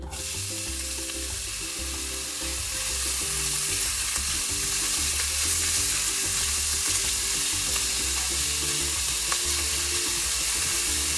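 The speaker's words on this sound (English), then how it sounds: "I'm gonna add the onions, chopped small." Chopped onions fry in a pan for pasta e piselli, a steady close sizzle that runs unbroken throughout with no voices.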